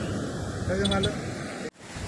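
Sea waves in Singapore wash in a steady, breezy roar with wind buffeting the microphone, while a voice speaks briefly over the surf.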